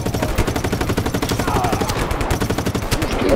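Rapid automatic gunfire from the video game Just Cause 3, a dense, loud stream of shots with steady rattling bursts filling the whole stretch.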